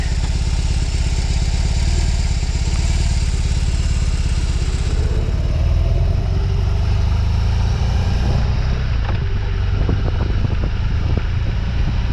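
A BMW R18 cruiser motorcycle engine rumbles steadily with heavy wind buffeting the microphone, loud and continuous while riding, easing slightly toward the end.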